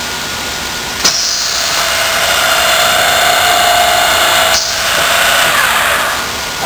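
A Marcon M6000 boring machine drills a row of holes in one quick cycle, a sharp clunk starting a loud high whirring burst of spindles lasting a few seconds before another clunk ends it.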